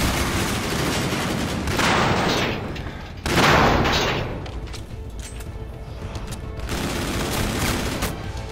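Gunfire in the video game Call of Duty: Infinite Warfare, with bursts of shooting and heavy thumping blasts following one another in loud, dense waves, dipping briefly between volleys.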